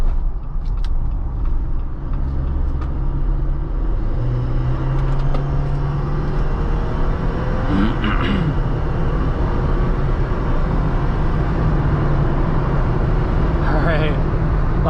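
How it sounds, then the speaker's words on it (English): A 2021 Jeep Wrangler Rubicon cruises at highway speed with a steady roar of road and wind noise filling the cabin, while someone talks over it. "lots of wind noise, but it does get up to highway speeds pretty decently"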